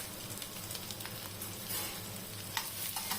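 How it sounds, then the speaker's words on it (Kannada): Thickly sliced onions sizzle and fry in hot oil with cumin seeds for an Indian egg curry, a steady close crackle with occasional stirring clicks and no talking. "3 ದಪ್ಪಗೆ ಹೆಚ್ಕೊಂಡಿರೋ ಈರುಳ್ಳಿ ಇದನ್ನ ಹಾಕಿ ಆಯಿಲಲ್ಲಿ ಬಾಡಿಸ್ಕೊಳ್ಳಿ"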